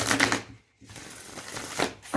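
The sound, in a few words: shuffling a deck of tarot cards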